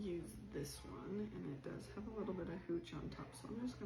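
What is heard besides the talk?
No everyday noise stands out behind the speech.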